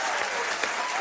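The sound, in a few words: applause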